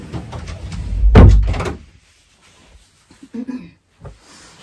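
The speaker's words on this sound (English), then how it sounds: "Let me shut my door." A door being shut indoors: a single loud, close thud as it slams, followed by a short quiet and a few faint knocks and clicks as the latch settles.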